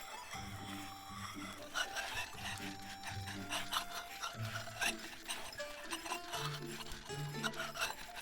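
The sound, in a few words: ink stick being ground on an inkstone, from the video game Love and Deepspace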